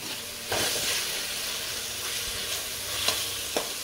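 Tomatoes fry in a hot pan with a continuous bright sizzle and hiss, joined by a few sharp stirring clicks and scrapes near the end, close up with no voices.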